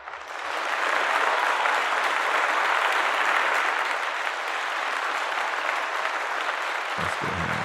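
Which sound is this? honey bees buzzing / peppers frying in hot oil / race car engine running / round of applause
round of applause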